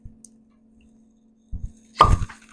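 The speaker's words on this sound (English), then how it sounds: "Now that's a real cork, and that's a real cork pop" A real cork is pulled from a bottle of American apple brandy, giving one sharp, close pop after a few soft handling knocks and a quiet steady hum.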